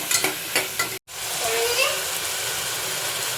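Ingredients with turmeric cook in a pan as they are stirred: a few quick scraping strokes, then a steady close sizzle.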